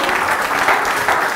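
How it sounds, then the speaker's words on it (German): Audience applause at a school talk event in a Berlin secondary school, steady dense clapping filling the whole moment at close range without pause. "Ein Applaus."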